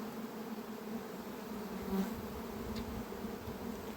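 A honeybee swarm flies around a hive, making a continuous, fairly faint buzzing drone that holds steady throughout. No one speaks.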